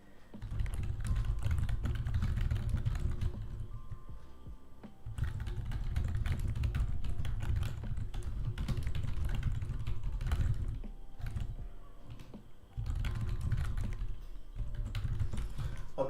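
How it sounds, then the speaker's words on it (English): Steady typing on a computer keyboard with bursts of quick, close key clicks that pause briefly a few times before resuming, heard alone without any speech. "I'm just typing it for your convenience."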